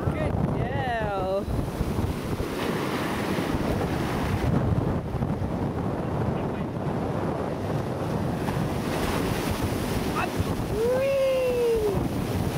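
Surf washes steadily onto a beach, a continuous close rush of water under strong wind noise on the microphone, with brief high voices at the start and near the end.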